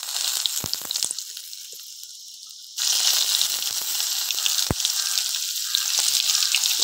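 A bay leaf dropped into hot oil left from frying fish and potatoes, with five-spice seeds already in. The oil bursts into a loud, steady sizzle partway through, after a quieter crackle, and carries on with no talking.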